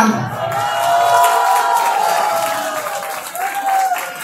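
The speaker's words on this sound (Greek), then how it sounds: "Και τώρα θα χειροκροτήσουμε τους ηθοποιούς μας" After a theatre performance, an audience gives the actors dense, sustained applause with cheering voices mixed in, loud and close throughout.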